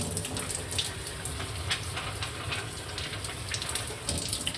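Water rushes through a newly fitted Aquaguard water purifier carbon and sediment filter, a steady broadband hiss and gurgle flushing continuously, close and even in level.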